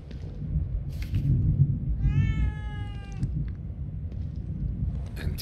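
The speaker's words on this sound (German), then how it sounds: "Oh, eine schwarze Katze." A black cat meows once in The Evil Within 2, a clear drawn-out cry rising over a low, rumbling game ambience that continues alone before and after.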